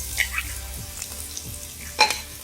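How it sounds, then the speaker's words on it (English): Chopped ginger fries in hot oil with mustard and cumin seeds, a soft sizzle broken by a few sharp spluttering pops and crackles, the loudest near the end, with no voices. "And now we have to roast the ginger for 30 seconds."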